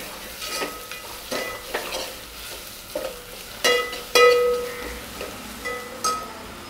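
A spoon stirs a cumin mixture in a pan for jeera rice, with rhythmic scraping, light sizzling and a few sharp metallic clinks against the pan.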